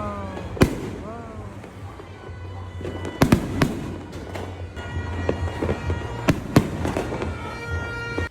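New Year fireworks and firecrackers burst in sharp, loud cracks at scattered moments over a steady crackle of distant explosions, with voices and cheering mixed in throughout.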